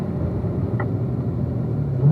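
A car engine drones steadily through a turn on a track, a low continuous rumble that swells slightly in pitch and loudness toward the end as power is applied.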